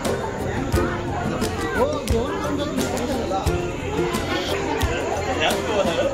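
Dense crowd chatter at a busy Hindu temple during a darshan of the goddess Pithori Mata, a steady babble of many overlapping voices with scattered clicks and knocks throughout.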